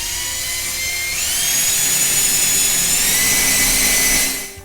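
A power drill with a 9/64 or 1/8 inch bit bores into wood while a mop and broom holder is being built: a steady, loud high-pitched whine that climbs in pitch after a second, holds for a few seconds, then cuts off.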